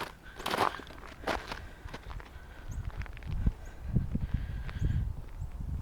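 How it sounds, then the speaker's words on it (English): Footsteps crunch over icy ground at an unhurried pace, fairly close, each step giving a crisp, gritty crackle against a quiet outdoor background. "There's the sound of ice crunching."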